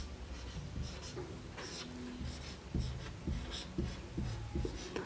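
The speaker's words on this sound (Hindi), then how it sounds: "आइए देखते हैं हम इसका परिभाषा लिख।" A definition is written on a board in a Hindi grammar lesson, producing soft scratching strokes and light taps at close range, with faint background murmur and no clear talking.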